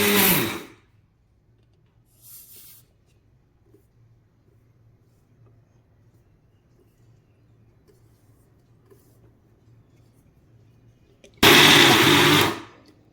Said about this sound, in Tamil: இப்போ வந்து நம்ம அரைக்க போகிறோம் ரொம்பவும் வந்து அரைக்கக்கூடாது